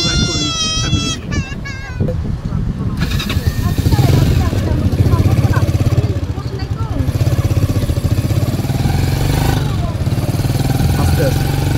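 A motorbike ride with a family along a sandy sea beach at Inani, Cox's Bazar, with a steady engine drone and rumble running throughout under background voices, wind and crowd noise after an early burst of chatter.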